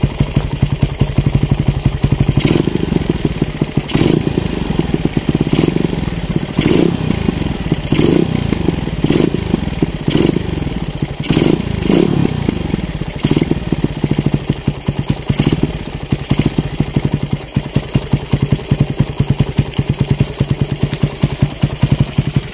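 A Suzuki Raider 150 fitted with a 30mm open carburetor and stock exhaust idles loud and close, a steady rapid engine rattle with a few sharp throttle blips over the first half.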